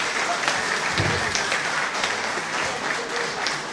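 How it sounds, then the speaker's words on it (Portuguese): Crowd clapping for Sr. José Evelino at a Bailinho performance in Doze Ribeiras, a continuous dense round of applause with scattered sharper claps, moderately loud, with faint voices mixed in. "Pedi uma salva de palmas para ele"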